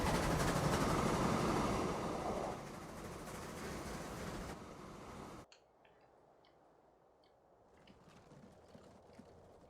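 A steam locomotive chugs along a line in the train game Transport Fever 2, making a rhythmic clattering beat. It is loud at first, then drops to a quieter level with scattered ticks after an abrupt change partway through.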